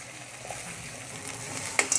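Masala for an egg dish fries over high heat while being stirred constantly, a steady close sizzle broken by a few sharp scraping clicks near the end, with no voices.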